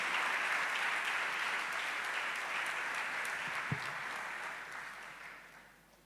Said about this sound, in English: Shall we please welcome him with a round of applause, please?